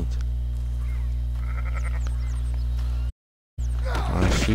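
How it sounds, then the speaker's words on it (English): Sheep bleating in the video game Red Dead Redemption 2, several short mid-pitched calls over a steady hum, with a brief silent break and a louder burst of bleating near the end. "Sheep you got there."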